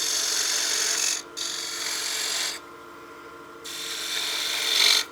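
A spindle gouge cuts wood on a lathe while turning a utility box, giving a steady bright rasping hiss that breaks off briefly twice, then resumes and swells near the end.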